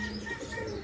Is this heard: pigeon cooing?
yes